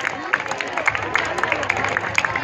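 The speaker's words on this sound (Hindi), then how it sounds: "भरपूर तालियां इन स्टूडेंट्स के लिए" An audience claps at a school award ceremony, with a dense, steady patter of applause throughout and a voice speaking over it.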